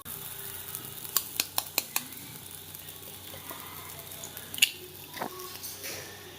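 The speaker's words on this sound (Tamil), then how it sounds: "ஸோ தோசை ஊற்றிக்கலாம். பன்னீர் வச்சுக்கலாம். இப்போ முட்டை போட்டுக்கலாம்." An egg cracked onto a paneer dosa on a hot pan sizzles softly and steadily, with a quick run of sharp taps and clicks near the start and a few more knocks later, close up and with no talk.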